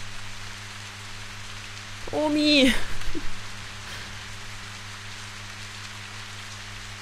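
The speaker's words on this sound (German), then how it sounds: "Und dieser ganze Regen." Steady rain falls throughout a scene in The Path video game, a constant hiss that holds level across the whole stretch while a voice briefly speaks over it near the middle.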